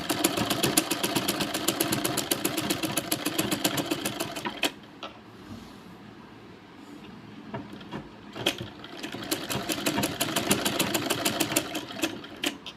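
A sewing machine stitches a blouse neck in rapid mechanical bursts, running fast, pausing briefly in the middle, then starting again close up.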